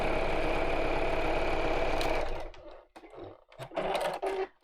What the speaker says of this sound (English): I'm just sewing in straight lines